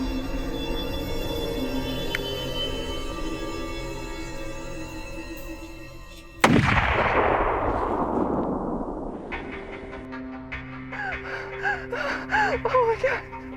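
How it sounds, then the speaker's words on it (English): A single loud rifle shot fired at a non-typical whitetail buck cracks out sharply after a stretch of steady outdoor background, followed by a long decaying rumble and then breathy exclamations from people nearby. "I'm gonna shoot him."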